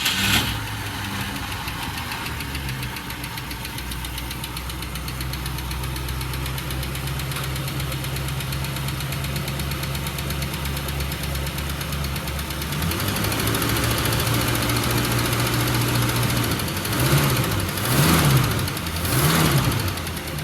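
A 1965 Ford Mustang engine that sat locked up for 33 years runs at a rough, knocking idle, then revs in several short throttle blips near the end, close and without talk.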